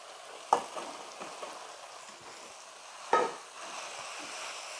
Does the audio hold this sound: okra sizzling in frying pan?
yes